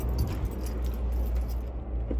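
Car keys jangle close by inside a vehicle, with a steady metallic rattle running throughout over a low rumbling background.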